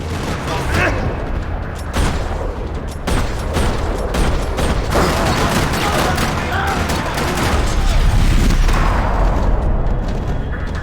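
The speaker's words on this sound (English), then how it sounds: "Another parking lot rattling with gunfire." Sustained heavy gunfire in a parking lot in the video game Max Payne 3 rattles continuously, rapid overlapping shots and booms at close range filling the whole stretch without pause.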